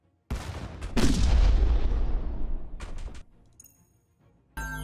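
Missiles launching in the space strategy game Stardrive 2, heavy booming blasts: a sharp first launch, then a louder rumbling one that slowly fades, followed by quieter pops and another burst at the end.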